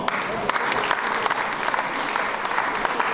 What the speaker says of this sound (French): excusez la commune de Villeneuve, applaudissements